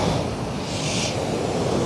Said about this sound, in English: Water is coming.